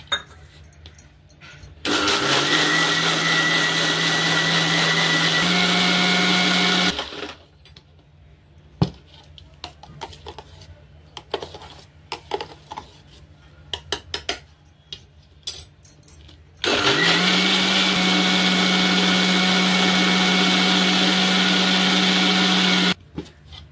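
A kitchen mixer grinder blends raw mango with sugar in two loud sustained bursts of whirring motor noise, each about five to seven seconds long. The bursts are separated by quieter clinks and handling sounds.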